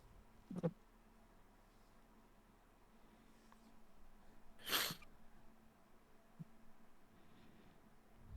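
A single short sneeze breaks a quiet room, preceded by a brief soft snort and followed by low background noise and a faint click.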